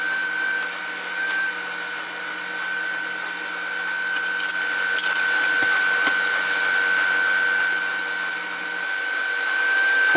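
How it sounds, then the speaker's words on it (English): An electric stand mixer whirs steadily while mixing chocolate cake batter, with a high motor whine and a slight rise in pitch and level as it speeds up, and no talking. "my mixer doesn't want to spin like it should, so I'm going to turn it up so it will"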